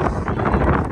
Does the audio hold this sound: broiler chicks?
no